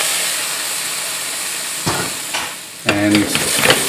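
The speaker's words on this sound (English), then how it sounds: "You want to put them back into the pot." Drained potatoes are stirred back into a hot pot, a steady sizzling hiss broken by two bursts of scraping and clattering as they are turned over, close by with no talking.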